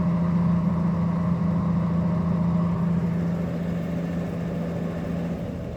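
A Jeep YJ engine holds a steady low hum with a constant drone throughout, close and fairly loud, and eases off slightly near the end. No one talks.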